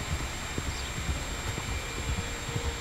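Horses' hooves clip-clopping steadily in Red Dead Redemption 2, a continuous rhythmic trot over a dense game soundscape, fairly close and without talk.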